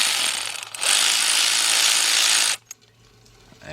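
A ratchet with a 10mm shallow socket on a 3/8 drive extension buzzes loudly for a couple of seconds, removing power steering pump bolts on a Ford Focus or Transit Connect. It then stops abruptly, followed by a brief metallic clink.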